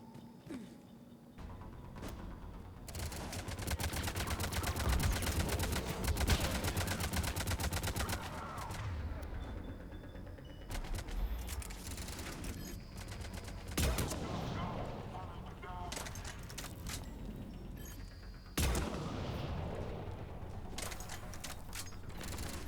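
Sustained gunfire from Mass Effect 3 inside a home, with dense rapid bursts and clattering mechanical shots that rise and fall over about twenty seconds, a sharp loud shot near the end, and a voice talking intermittently beneath the combat.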